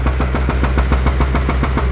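A Komatsu PC120-3 excavator, fitted with a hydraulic breaker, runs its four-cylinder four-stroke diesel engine with a steady, fast, pulsing knock and a deep low rumble. The sound is close, loud and continuous, with no voices.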